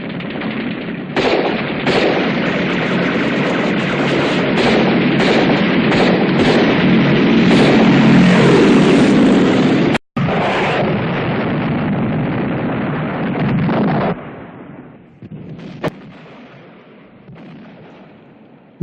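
Loud, dense battle-scene gunfire from the film Patton's depiction of the Battle of El Guettar, with continuous machine-gun bursts and artillery blasts for about fourteen seconds before thinning out to scattered, fading shots.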